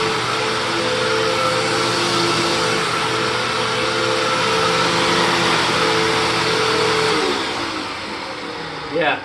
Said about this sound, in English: it literally is sucking right down to the carpet, just like my regular blue Hoover Tempo Wet Pad